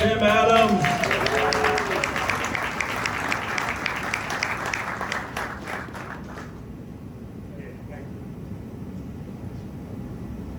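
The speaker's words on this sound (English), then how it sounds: "All right, ladies and gentlemen, how about a big round of applause for the Mayor of Bowie, Mr. Tim Adams." Broad applause from a crowd at a stadium groundbreaking ceremony fills the space, loud at first and gradually thinning out over several seconds with a few voices underneath.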